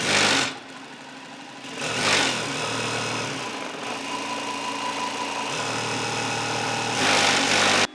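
An industrial sewing machine stitches in a steady mechanical whir with a dense, even buzz. It starts and stops in short bursts, running continuously through the middle, close and loud, with no talking.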